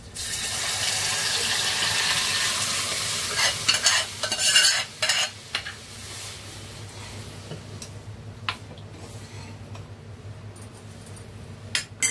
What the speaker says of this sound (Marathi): एकीकडे आपली डाळ देते फोडणीला